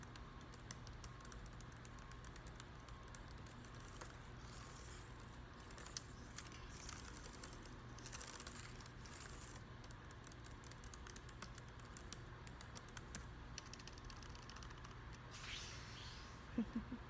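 Soft, steady typing on a laptop keyboard at an ASMR workspace, with quiet irregular key taps running continuously at low level over a faint background hiss.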